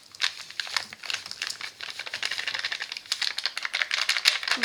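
Crinkly sachets from a Noz bath bomb kit being handled and emptied, a close, busy stream of rustling plastic crackles and small rattles with no pauses.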